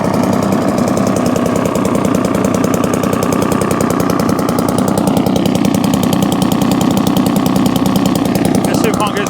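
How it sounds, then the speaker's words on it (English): A vintage 1954 Atco Villiers kickstart lawnmower with a two-stroke engine idles steadily and loudly up close, a fast, even, slightly knocking putter that stays constant throughout. "The good thing about it being a two-stroke is you can have it idle really, really low."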